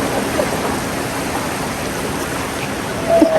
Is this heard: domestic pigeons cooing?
no